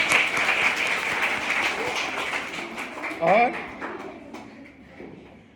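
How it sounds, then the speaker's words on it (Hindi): Schoolchildren at a government middle school clap together in a steady, close burst of applause, with an adult voice talking over the clapping before it thins out near the end. "आर्मी, वेरी गुड, ताली बजाओ।"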